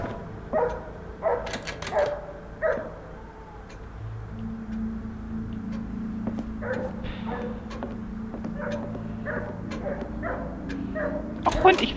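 A dog barks repeatedly in the horror video game TheNightfall, short sharp yaps and whimpers scattered over a low, steady ambient drone, with a voice speaking over parts of it.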